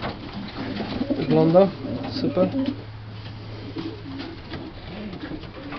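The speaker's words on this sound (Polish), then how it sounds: "Piękny gołąb de Klag." Pigeons coo softly nearby in a loft, their low rolling calls sitting under someone talking in Polish.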